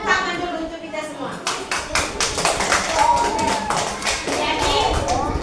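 A school class in an Indonesian language lesson breaks into scattered, uneven clapping with taps and thumps, while voices talk over it.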